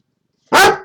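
A dog gives one loud, close bark that bursts out suddenly after silence and then trails off.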